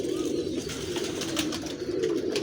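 Pigeons in a breeding loft cooing continuously, a steady low warbling drone from several birds close by, with light flutters and scratchy rustles mixed in.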